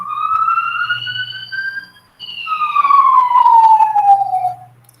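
A siren wails past, its rising tone holding steady and then sliding lower as it goes by, a clear demonstration of the Doppler effect. It is loud and close, with a low hum underneath.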